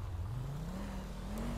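A police car in the video game GTA V pulling away, its engine tone rising steadily as it accelerates, close and continuous.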